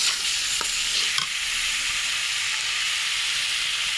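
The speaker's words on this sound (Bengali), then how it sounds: "আর স্বাদ মতো মশলাটা এখন একটু ভাজা করে নেব" Spice masala with chopped tomato sizzles steadily in hot oil in a pan, with a continuous loud frying hiss and a few scraping stirs early on, no talking.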